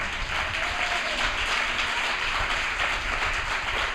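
A church congregation applauds together at a Sunday service, a dense, sustained wash of many hands clapping at once without letup.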